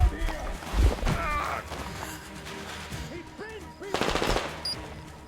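Gunfire aimed at the player in Metro Exodus, rapid machine-gun bursts with sharp impacts and clatter, loud and close, with a second burst near the end.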